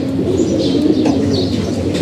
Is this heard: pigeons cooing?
yes